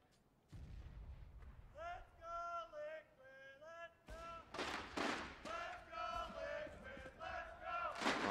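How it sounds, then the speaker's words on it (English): A large arena crowd at a Counter-Strike esports semifinal between Liquid and Navi chants and roars in rising, rhythmic waves, loud and continuous, with gunfire from the match mixed in. "The crowd rallying behind Liquid."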